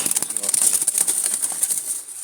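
Wild Jalali pigeons flutter and shuffle close by, with busy bird noise and a steady high hiss throughout.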